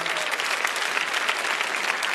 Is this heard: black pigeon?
no